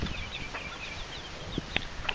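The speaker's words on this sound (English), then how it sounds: "I've got a hen with 6 chicks." Soft, faint chirps and peeps of six small chicks with a few quiet clucks from their hen, scattered and brief in an outdoor yard.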